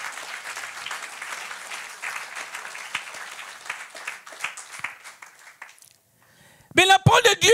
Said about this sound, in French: Acclamons très fort le Seigneur Jésus